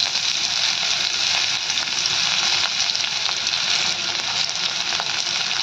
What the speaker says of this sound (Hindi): गोटे पियाज को पूरा चुन चुन कर काटिक आम तेल में पकेबा